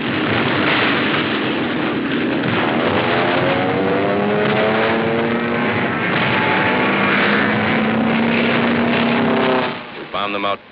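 A WWII aircraft flies over Tarawa during the 1943 battle, its loud, steady engine drone sliding slowly down in pitch as it passes, then cutting off abruptly near the end.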